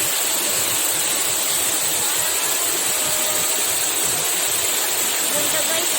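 Hinulugang Taktak waterfall in Antipolo City roars as a steady, loud, unbroken rush of falling water that stays constant throughout.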